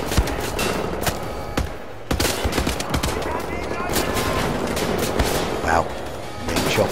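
Wolfenstein: The New Order firefight with rapid bursts of automatic gunfire and scattered single shots coming from several directions, dense and continuous, with some voices mixed in beneath the shooting.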